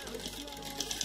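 Sewing machine backstitching a seam on a rug made from used clothes, a brief steady mechanical whir heard close up, with a few light clicks near the end.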